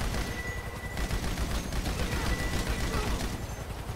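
Sustained, rapid machine-gun fire rattles continuously in a GTA Online shootout near a helicopter, loud and dense throughout with faint voices underneath.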